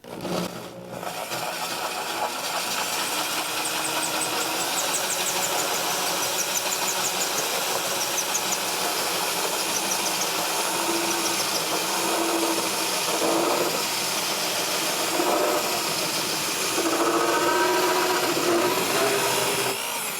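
A power drill motor runs in reverse continuously at a steady high pitch for a long stretch, close and loud, with slight fluctuations in tone.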